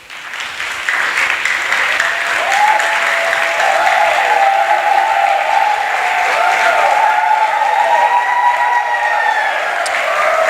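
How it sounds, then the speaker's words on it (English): Sustained applause fills a crowded art gallery event honoring Red Clay, steady and dense from the first second onward, with a few faint cheers and whistles rising above the clapping. "I think Red Clay deserves an applause too"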